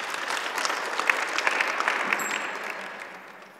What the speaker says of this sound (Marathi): टाळ्या वाजवून आपण स्वागत करा